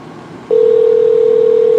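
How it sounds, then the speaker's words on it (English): A telephone dial tone starts abruptly after a brief stretch of low background hum and then holds as a loud, steady, unbroken pure tone while a call is being placed. "I swear I don't want to make this phone call."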